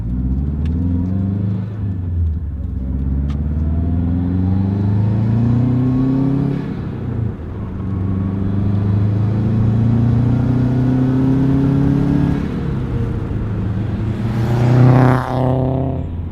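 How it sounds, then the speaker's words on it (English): Subaru WRX fitted with a Gimmick Motorsports exhaust accelerating from first gear with the window down, a loud rumbling engine climbing steadily in pitch, then briefly dropping at each upshift before rising again. "I'm going to do a normal acceleration from first gear with the window down"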